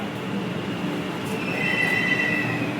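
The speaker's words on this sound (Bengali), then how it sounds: "ট্রেনের জন্য অপেক্ষা করছি, দেখা যাক কখন ট্রেনটা আসে।" A metro train arriving at Sealdah station platform, its rumble building while a high wheel squeal rises toward the end, heard close with no talk.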